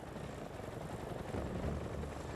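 A CH-47 Chinook, an ex-RAF twin-rotor helicopter after an extensive refit, drones steadily with dense broadband rotor and engine roar and a faint rhythmic throb, holding a constant loudness without any voices.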